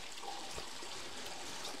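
Small creek on Vancouver Island running steadily, a close, continuous broadband trickle and wash of water with no talk, level and unbroken through the short moment.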